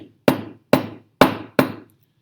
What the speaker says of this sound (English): I'll tap it with the hammer